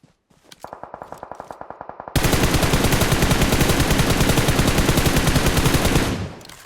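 Automatic gunfire in the shooter game PUBG Mobile, loud and close: a short rhythmic burst of single shots first, then a long unbroken rattling stream of rapid fire that cuts off abruptly.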